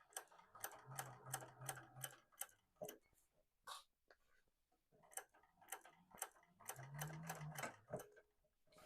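A sewing machine stitches a fabric sling in bursts of rapid, even needle strokes, pausing around the middle and then running again, close and clear with no talk.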